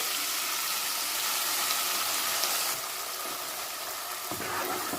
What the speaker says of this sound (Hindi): तो अब हम इसमें डाल देंगे वाटन, यानी कि जो हमने पेस्ट बनाया है वेट पेस्ट, इसको हम डाल देंगे